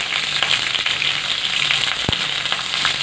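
Chillies cooking on low heat in a pan give a continuous, even frying hiss with faint crackles and one soft knock, close and steady, no voices.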